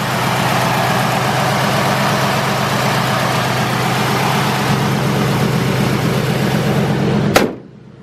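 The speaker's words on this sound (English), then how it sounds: "smooth running engine." A 1978 Mercury Cougar engine idles after a cold start, steady with a loud, rough low rumble for several seconds, then cuts off abruptly.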